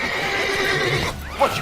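A horse in the video game The Witcher 3 gives a loud, close whinny, a rising and falling neigh with hooves clip-clopping underneath and a short snort at the end.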